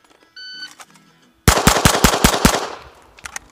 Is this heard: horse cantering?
no